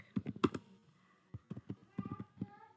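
Someone types on a computer keyboard in a quiet room, a quick burst of clustered key clicks, a pause, then more irregular tapping, close and soft.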